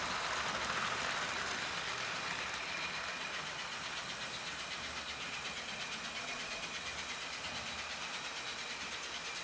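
A tiny American Flyer HO model locomotive straining under load while pulling twenty cars, giving a faint, steady mechanical whir and hum with a fine rapid ripple, continuous and without talk.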